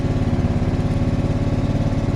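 A Mountfield R27m ride-on petrol lawnmower engine runs loud and close, with a steady, even throb throughout.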